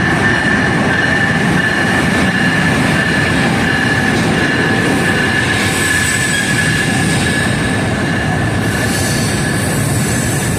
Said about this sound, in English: There it is, Amtrak 42, the eastbound Pennsylvanian with a private car.